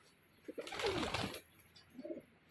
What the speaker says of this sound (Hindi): देखो ये अभी हमारे कबूतर आ चुके हैं